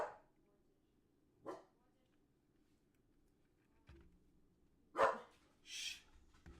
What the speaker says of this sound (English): Dogs get active again.